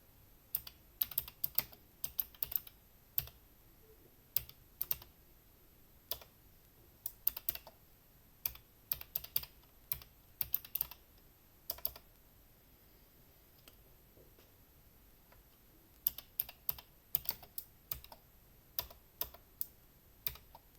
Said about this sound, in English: let me type it because it is not long